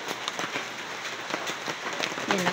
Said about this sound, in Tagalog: Tunog ng ulan. Paparating.